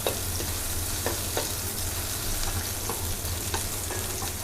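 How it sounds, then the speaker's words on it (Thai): Chilies stir-frying in a pan for a vegetarian tofu and shiitake basil stir-fry, giving a steady, dense sizzle with occasional scraping clicks from stirring, loud and close with no talk. "พอผัดพริกหอมเลยนะคะ"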